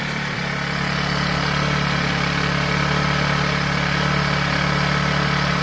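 A Generac 1200 watt portable inverter generator runs at a steady, close, moderately loud hum with constant engine drone and no talking.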